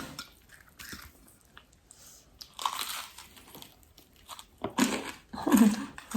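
Crunchy bites into crispy Belgian smoutebollen, deep-fried dough balls, with a few sharp crunches and chewing bursts that come and go close up.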